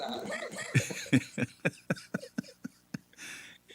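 A few short, sharp coughs in a row, close by, mixed with a little throaty vocal sound, each burst brief and separated by pauses.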